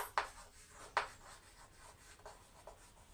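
A marker or chalk scrapes across a board in a few short strokes, two of them sharper than the rest, close and fairly quiet.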